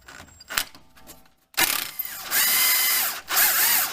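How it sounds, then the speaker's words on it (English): An impact gun rattles loose a front strut bolt on a 2018 Nissan NV200, with a short opening burst, a pause, then long loud hammering runs that stop briefly before resuming up close. "I'm going to use my impact gun, but you could do this with a regular ratchet."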